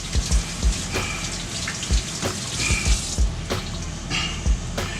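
Cold tap water running steadily over sweet potatoes being washed in a sink, with a constant splashing stream and intermittent knocks and clunks of the tubers against the basin, fairly close.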